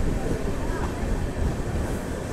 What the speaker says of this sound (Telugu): సో ఒంగోలుకి మన ట్రైన్ వచ్చేసి ప్లాట్ఫామ్ 3కి అయితే తీసుకొచ్చినారు.